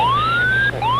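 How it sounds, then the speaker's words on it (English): Wailing emergency siren sweeps upward and falls away, then starts rising again, loud and close over a steady low hum, as a jet takes off from a runway. "soon sirens start sounding off, while the aircraft's nose points skyward."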